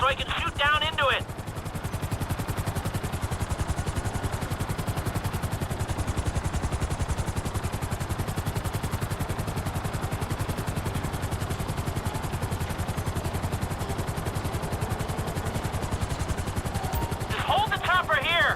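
A helicopter hovers in the video game GTA 5, its rotor chopping in a fast, steady, loud pulse that runs throughout, with brief bursts of sound near the start and end.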